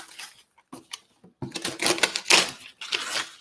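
A taped cardboard box is opened with close, bursty ripping and crinkling noises broken by short pauses, loud and irregular.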